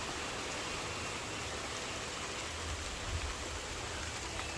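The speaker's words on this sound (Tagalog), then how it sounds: "ang lakas ng ulan" Heavy rain pours steadily outdoors, a dense, even hiss of downpour at moderate level with no gaps and no talk over it.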